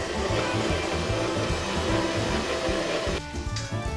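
A KitchenAid stand mixer kneads dough with a steady, loud rhythmic churning motor hum that pulses regularly, then drops away briefly near the end before resuming.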